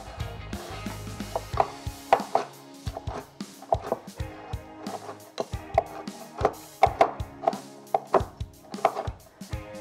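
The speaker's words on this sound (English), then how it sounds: "So I've got some bacon here that I'm just going to chop up." A knife chops bacon on a board for a loaded mashed potato casserole, giving sharp, close wooden thwacks in an irregular rhythm, sparse at first and then quicker and denser, with no talking.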